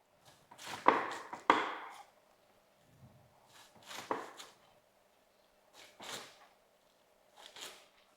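A knife chops drumstick (shevga) leaves on a board: a quick cluster of sharp cuts at first, then a few softer, spaced single chops with quiet gaps between, close and alone.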